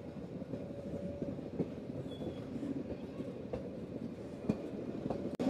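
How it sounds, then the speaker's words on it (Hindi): A passenger train rolls along tracks near Dera Baba Nanak in rural Punjab. A steady low rumble and rattle of the wheels carries on throughout, with faint rhythmic clicks and one brief high squeal. "ट्रेन अभी यहाँ से निकल चुकी है डेरा बाबा नानक से"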